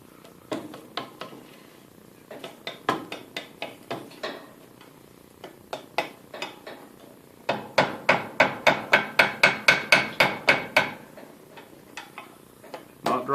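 Hammer taps drive against the notches of a utility blade while refurbishing an Atlas lathe quick-change gearbox, with sharp metallic strikes first scattered and irregular, then a quick, steady run of about a dozen blows, close and clear.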